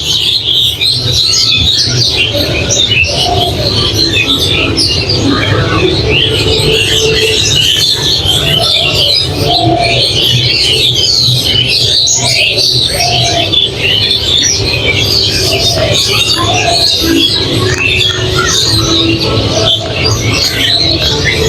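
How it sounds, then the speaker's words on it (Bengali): Birds chirp and sing from the trees at Suvarna Gram Park and Resort, a steady dense chorus of small calls running throughout, with occasional dove-like coos amid outdoor ambience. "পাখির কিচিরমিচির শব্দ একটু লক্ষ্য করলে কিন্তু শোনা যায়"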